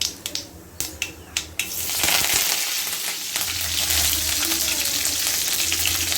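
Mustard seeds and cumin hit hot oil in a pan for a vermicelli upma: a few sharp clinks and pops, then a loud continuous sizzle and crackle that carries on close up with no talking.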